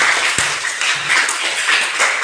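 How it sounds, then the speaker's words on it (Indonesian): Classroom applause from a group of students, a moderately loud patter of clapping with a few sharp individual claps, some murmuring mixed in. "Tepuk tangan untuk kita semua."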